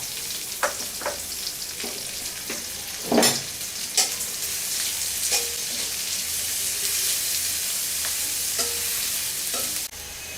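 Onion, garlic and cumin frying in ghee and oil, a loud steady sizzle with repeated sharp spoon scrapes and clinks against the pan, close up.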